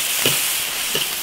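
Shredded pork stir-frying in a large iron wok, a steady bed of sizzling hiss broken by two quick scraping stirs of the spatula.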